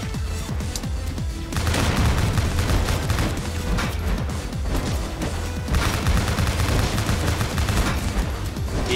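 Sustained rapid gunfire in the action video game Bionic Commando Rearmed 2, dense bursts of shots with a short lull in between, loud and continuous, with no talking.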